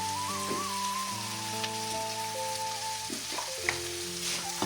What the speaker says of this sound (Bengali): ভুজিয়ার জন্য সব ভাজাভুজি এই যে রেডি হয়ে যাচ্ছে